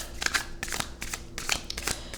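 A deck of animal spirit oracle cards being shuffled by hand, several quick papery riffling bursts in an irregular rhythm, close and fairly soft with no talking.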